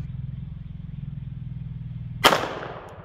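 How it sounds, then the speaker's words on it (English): A single sharp FN green-tip 27-grain 5.7-caliber-style bullet shot from a pistol cracks loudly at close range over a steady low engine-like hum, followed by a short decaying echo. "So we're gonna shoot this green tip by FN."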